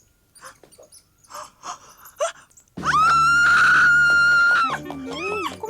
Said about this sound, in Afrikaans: Kom skree sy so.